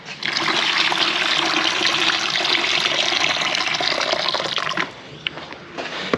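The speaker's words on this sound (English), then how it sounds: "I'm also going to add some warm water as well" Warm water gushes steadily into a container of cleaning mix for Porsche Alcantara interior cleaning, a loud close pour lasting several seconds before easing into softer trickles and small splashes, with no talking.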